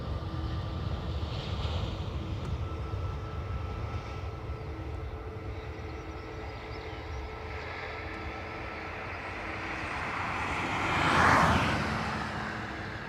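An aircraft on approach to runway 10 left at Dublin Airport drones as a steady, distant engine rumble that swells louder near the end as it passes overhead.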